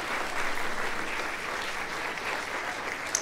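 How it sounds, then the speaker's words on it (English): Sustained applause from parents after a sixth-grade boys' spring school piano concert, dense steady clapping filling the room with no break. "Can we give them all another round of applause?"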